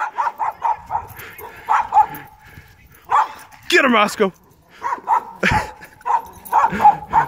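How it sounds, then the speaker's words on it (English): A puppy barks repeatedly in short bursts close by at a snowman, mixed with people talking and calling out between the barks. "He's barking at the snowman, literally."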